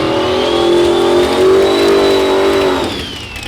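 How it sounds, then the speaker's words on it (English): Turbocharged box-body drag race cars launch hard, their engines roaring loud and close with a rising, sustained rev for nearly three seconds before the sound drops off as they pull away. "Nothing like starting up the races with a pair of turbo box bodies"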